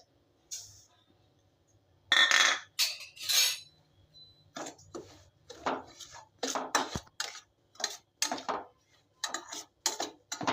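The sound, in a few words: semolina being roasted and stirred in a kadai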